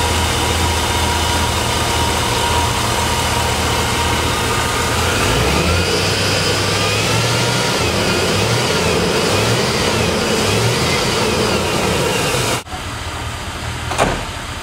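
A car engine runs on an external fuel tank, idling with low steady rumble and a few revs rising and falling, loud and close, before stopping abruptly near the end.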